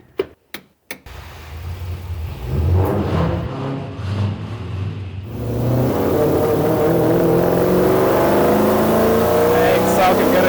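A car's engine revs and pulls hard while driving, a loud sustained roar with rising tone after a few sharp knocks at the start, voices talking over it.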